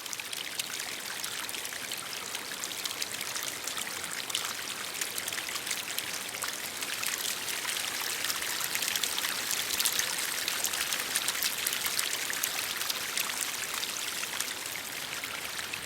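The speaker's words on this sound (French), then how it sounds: "Cette eau qui suinte de partout parmi les pierres, les mousses et les arbrisseaux permet la vie animale" Spring water trickles and seeps steadily among stones, moss and small shrubs, a continuous close, bright babbling wash that holds an even level throughout with no voices.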